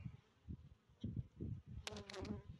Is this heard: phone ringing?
no